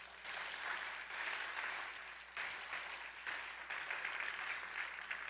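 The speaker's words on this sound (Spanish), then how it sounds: "¿Quién puede dar un aplauso a Dios por eso?" A church congregation claps in praise during a sermon, a moderately quiet, sustained burst of applause with a brief dip partway before it resumes, heard with some distance.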